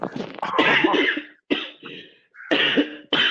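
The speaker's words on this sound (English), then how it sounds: "We can still hear you coughing." Several loud, rough coughs come in bursts close to the listener, separated by brief pauses.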